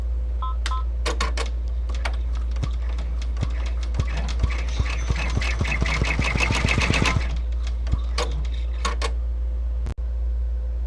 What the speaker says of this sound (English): now the medical alert symbol and your alert wording has been stitched